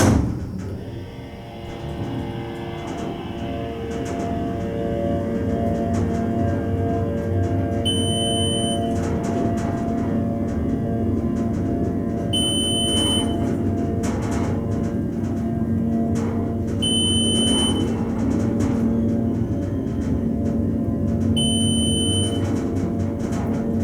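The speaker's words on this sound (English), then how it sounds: "let's listen to the motor going up" An MEI hydraulic elevator in a parking ramp runs as the car goes up, giving a steady low motor drone that holds for the whole ride, with a few brief high beeps chiming at intervals.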